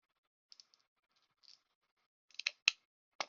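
Nippers bite into a thick piece of cured resin, with a few faint clicks followed by several sharp, close snapping cracks as the jaws press and slip.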